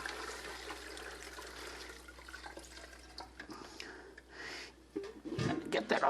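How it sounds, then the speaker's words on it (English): Chicken stock poured through a sieve into a pan, a steady trickle and splash of liquid that builds into heavier pouring toward the end. "we're just pouring it through the sieve into my other pan"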